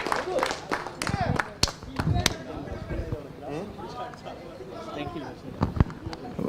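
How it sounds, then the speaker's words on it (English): Scattered audience clapping at a Twenty20 cricket cup final prize ceremony: sharp, uneven claps under steady crowd chatter and talking. "And a big round of applause for Mr. Santosh"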